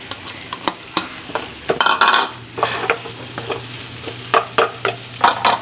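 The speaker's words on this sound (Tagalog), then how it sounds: "Lagay na natin ang ating ampalaya." Bitter gourd (ampalaya) tipped into a pan of softened tomatoes and stirred, with repeated scraping clatter of utensil on pan over a light sizzle and a steady low hum.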